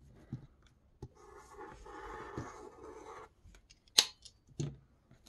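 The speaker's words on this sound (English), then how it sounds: "when you take your blade to cut" A craft blade slices paper along a quilting ruler, giving soft scratchy scraping strokes in a quiet room, followed by a couple of sharper clicks and taps.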